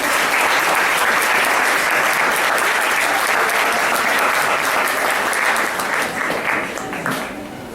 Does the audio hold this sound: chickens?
no